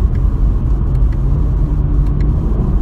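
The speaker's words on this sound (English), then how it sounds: "So we can downshift," A 2020 Chevrolet Camaro V6 with a 10-speed automatic in manual mode downshifting from tenth gear while cruising: a loud, steady engine rumble with faint shifts in tone, close and continuous, no talk.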